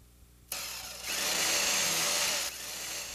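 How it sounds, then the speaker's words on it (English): Power drill whirring as volunteers drill holes to string internet cables through an elementary school, a close, steady high-pitched whine that starts abruptly, rises to full speed and then eases off. "These volunteers at Winterquist Elementary School are drilling and playing with wires for a good reason."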